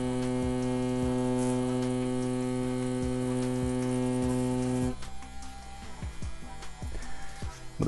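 A CNC P6 tattoo machine runs with a steady electric hum, buzzing continuously for about five seconds before its tone shifts and roughens as it works, with no talking.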